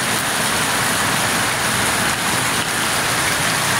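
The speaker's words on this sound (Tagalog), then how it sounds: "Heavy rain. Look. From the roof." Heavy rain pounds a house roof during a storm, a dense, constant hiss and patter that fills the whole stretch at steady loudness, with no speech over it.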